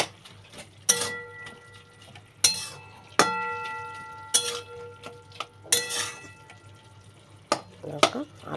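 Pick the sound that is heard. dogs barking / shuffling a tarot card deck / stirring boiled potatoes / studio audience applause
stirring boiled potatoes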